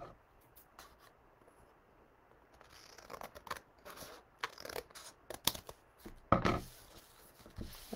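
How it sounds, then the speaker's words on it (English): Scissors snip through paper along printed lines, quiet at first and then a run of sharp, irregular cuts and rustles that grow louder toward the end. "So you just keep cutting along those lines if there's any lines."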